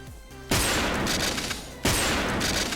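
Gunshots from a sniper rifle in a video game, two loud booming shots a little over a second apart, each followed by a long echoing tail that fills the background.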